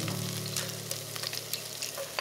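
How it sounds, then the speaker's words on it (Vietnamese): Shallots and garlic sizzling in rendered chicken fat, a steady, dense frying hiss with occasional crackles and stirring clicks, close and continuous with no talk. "Rồi mình thêm hành tỏi vào phi lên cho thơm."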